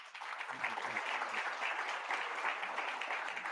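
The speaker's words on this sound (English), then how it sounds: "we can just give these guys a round of applause" Steady applause from a conference audience thanking a discussion panel, a dense wash of many hands clapping evenly for several seconds with no one speaking.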